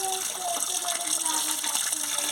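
Tap water runs and gushes continuously over straw mushrooms being washed by hand, a steady close splashing flow with a voice talking faintly underneath.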